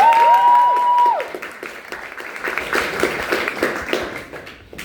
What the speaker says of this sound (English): Let's give a round of applause though